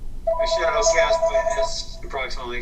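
A mobile phone ringtone sounds during a live watercolor painting session: a steady, melodic ringing pattern that repeats for a couple of seconds, mixed with a person speaking over it.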